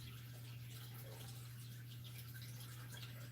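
Water trickles and splashes steadily as it is poured during the rooting of elephant hard neck garlic cloves, a soft continuous flow over a low electrical hum.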